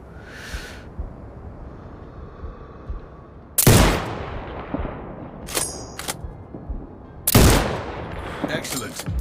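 Sniper rifle shots in the video game Sniper Ghost Warrior Contracts 2, three loud sharp cracks spaced a few seconds apart, each with a short echoing tail over quiet background ambience.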